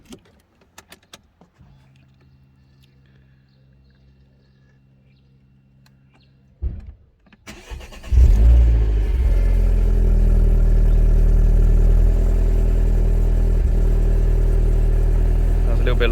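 A Citroen DS3 fitted with a performance boost pipe cold starting: quiet clicks and a low electrical hum, then a short crank and the engine catching into a loud, slightly lumpy idle that holds steady to the end.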